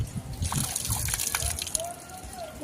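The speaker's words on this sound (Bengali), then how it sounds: "সবজিটাকে ভালো করে ধুয়ে নিলাম।" Vegetables are washed by hand in water, producing close sloshing, trickling and splashing, with faint squeaks, in a short quiet stretch.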